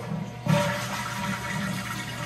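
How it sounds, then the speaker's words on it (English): A toilet with a faulty flapper being flushed, a sudden loud rush of water starting abruptly, then a steady gurgling drain that continues close by. "flush it one more time."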